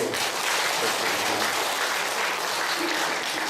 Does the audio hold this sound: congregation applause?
yes